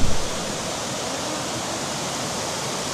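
Arawaka Falls on Ishigaki, Japan, roars as a steady broadband rush of falling water, loud and continuous throughout the short stretch with no voices.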